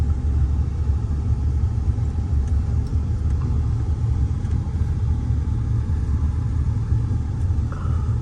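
A car engine strains up a steep slope, giving a steady, heavy low rumble that holds throughout with no voices.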